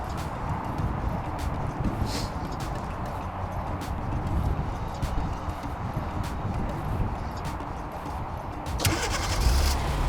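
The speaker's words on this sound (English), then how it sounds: "And here you go, the car is running." A Hyundai Elantra engine, started by remote starter, turns over and settles into a steady, close idling rumble that continues throughout.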